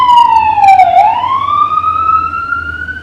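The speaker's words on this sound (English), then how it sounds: "That's crazy because we never even hear sirens around here." A wailing emergency vehicle siren sounds loud and close outside, its tone dipping low then sweeping back up into a long rising whine.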